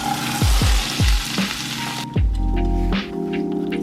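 Corn frying in about two tablespoons of oil in a pan makes a loud, dense sizzle with several thumps and clanks of the pan being handled, then the crackle thins to a quieter, steady fry.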